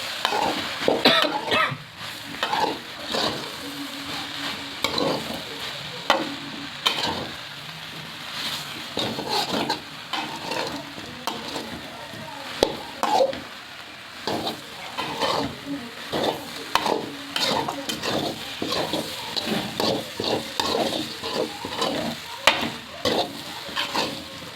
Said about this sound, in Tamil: எல்லாத்தையும் கலந்து விட்டுருவோம் மக்கள்.